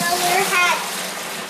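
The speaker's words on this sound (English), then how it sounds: "So now we're going to go ahead and put it into our clean fermentation bucket." Homemade raspberry hard lemonade is poured into a clean fermentation bucket: a short, loud gush of liquid splashing into the container that fades over about a second.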